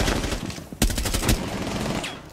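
Gunfire in the video game Rainbow Six Siege comes as short, loud, rapid-fire bursts heard up close, with a couple of sharp volleys against a busy background of game noise.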